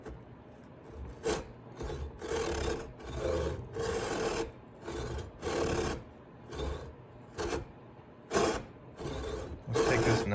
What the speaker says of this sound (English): I'm gonna take a hacksaw and saw this off pretty close and then sand the rest